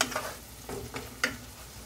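Onion sweating in a frying pan for creamy chicken, a soft sizzle with a few scraping stirs of a utensil, close and moderately quiet, no voices.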